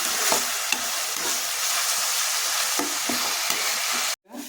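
Ingredients for pepper rice fry in a pan, a steady close sizzle with scraping stirs at irregular intervals, cutting off abruptly near the end; no one speaks.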